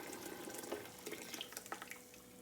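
Green salsa is poured into a pot for pozole close by, a short stretch of wet splashing and gurgling that trails off into soft drips.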